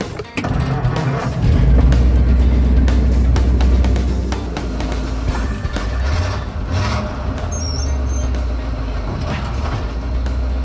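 A car pulls away on its very first test drive, its engine a heavy, low rumble that rises and settles as it gets moving, with road and mechanical noise throughout and no clear talk.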